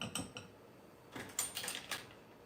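Metal cutlery and utensils clink and rattle while a spoon is pulled out to stir strawberry freezer jam, a few short bright clatters close by in a quiet kitchen.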